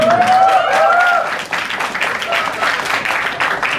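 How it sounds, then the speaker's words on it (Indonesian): Applause at an installation ceremony for a Malaysian madrasah organisation, a dense wash of clapping from a seated audience following a brief voice, steady and moderately loud. "tepuk tangan dulu"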